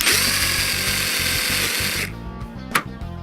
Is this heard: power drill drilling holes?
yes